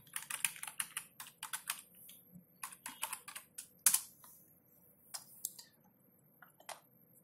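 A blog name is typed on a computer keyboard in quick, uneven bursts of close, crisp key clicks, with short pauses and one louder tap near the middle, quiet room and no speech.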